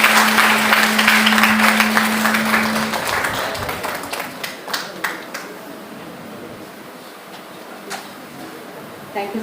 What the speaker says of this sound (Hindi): बच्चों जोरदार तालियों से स्वागत करेंगे सर का।